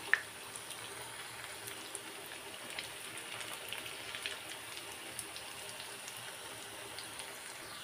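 Cabbage pakoras crackle in a pan of hot oil, a steady dense bubbling sizzle with scattered small pops throughout, fairly quiet and uninterrupted.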